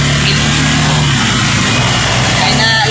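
A motorcycle engine runs at steady high revs while the bike pushes through flood water on a road, with a loud continuous drone that masks the splashing and voices talking over it.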